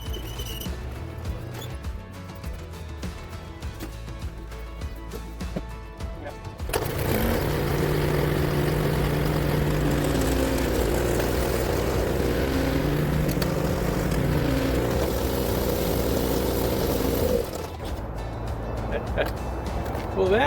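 Snowblower engine running on test after a friction disk repair, a steady loud mechanical drone that starts partway through and holds for about ten seconds before dropping back, with some talk around it.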